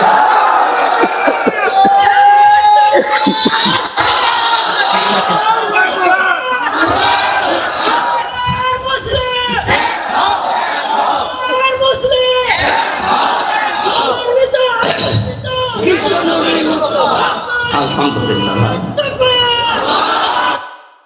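A large crowd at a religious sermon roars the takbir in unison, loud massed shouting and cheering that swells in repeated waves for about twenty seconds.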